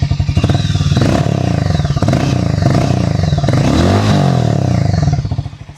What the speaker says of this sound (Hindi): अब मैं आपको इसका रेविंग साउंड सुनाता हूँ।